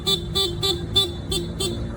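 A stock car horn is triggered through a halo switch, giving six short, evenly spaced beeps that sound loud and close.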